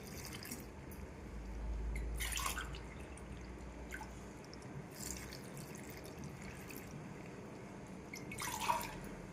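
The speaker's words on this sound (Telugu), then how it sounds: "ఇప్పుడు 2 గ్లాసుల వాటర్" Two glasses of water are poured into a cooking pot of lentils with turmeric, heard as faint splashing and dripping bursts in a quiet kitchen.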